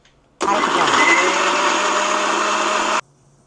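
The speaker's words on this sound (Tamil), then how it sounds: "மிக்சியில் போட்டு அரைக்கணும்" An electric mixer grinder blends tomatoes and onions into a paste, its motor starting abruptly and running as a loud, steady whir for a couple of seconds before cutting off sharply, with no talking.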